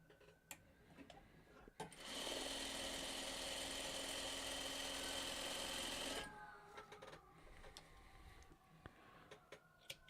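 A sewing machine stitching gray fabric to green, a steady whirring run of about four seconds bracketed by quieter clicks and handling sounds.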